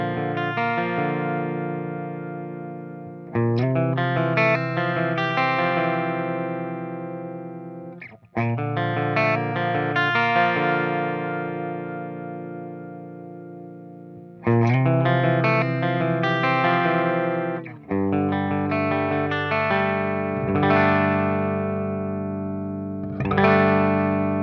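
Electric guitar through the clean channel of a Crab BE tube amp, EQ being adjusted: ringing, sustained chords strummed in several bursts, each decaying before the next, full and bright with no voices.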